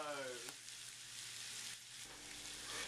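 Steady, close sizzling of food frying in a hot pan, a dense crackling hiss that continues without a break.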